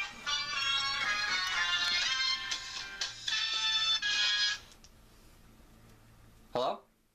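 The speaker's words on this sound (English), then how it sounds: "Shit, that's my phone." Mobile phone ringtone playing a loud, bright melodic tune for several seconds, then dropping away, with a short final burst near the end; low background hum underneath.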